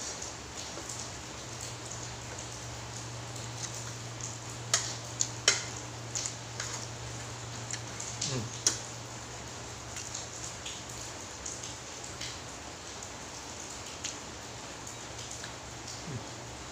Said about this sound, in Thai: ฝนตกพายุเข้า ฝนตกทุกวันพี่น้อง